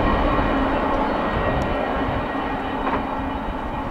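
CSX freight train I-009 passing by on a snowy day around Buffalo, a steady broad rumble and roar of rolling cars that holds at a constant level throughout, with no voices.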